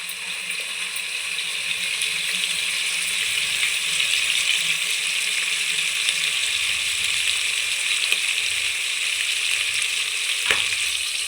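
Fenugreek leaves fry in a masala tempering with a steady, bright sizzle that holds evenly throughout, with faint stirring scrapes and a small clink near the end, no voices.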